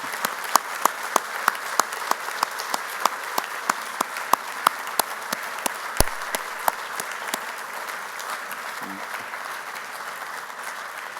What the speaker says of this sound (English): join me in a brief applause to honor their great work